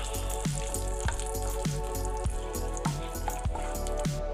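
Cashews and raisins frying in hot ghee in a pan for a Malabar banana cake, a steady close sizzle with small regular pops and crackles every half second or so, no voices.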